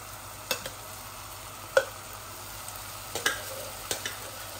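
Blended onion and tomato mash sizzles softly in a pan for a chicken bhuna, a steady low fry broken by a few sharp clinks and stirring knocks.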